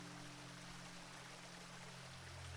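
A flowing water stream rushes in a soft, continuous, even wash with a low steady hum underneath, in a calm ASMR-style fantasy setting, with no talking.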